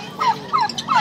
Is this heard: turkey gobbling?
yes